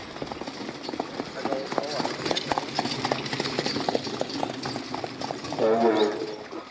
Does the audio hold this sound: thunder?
no